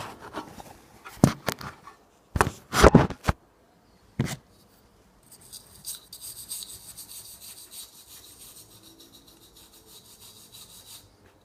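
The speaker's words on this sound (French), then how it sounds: "de la brosse à dents, comme ceci, en faisant des petits mouvements horizontaux et verticaux et en même temps circulaires sur tous les trous" A toothbrush scrubs the burner holes of a Valor stove, making a few sharp scraping strokes followed by a softer, continuous rapid brushing hiss, close up and without talk.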